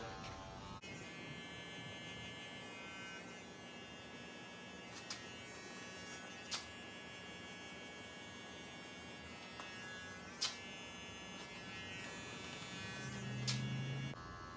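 Electric hair clippers fitted with a 1 guard buzz steadily and close while touching up a mid fade line, with a few faint clicks and no voices.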